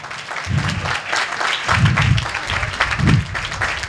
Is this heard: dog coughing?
no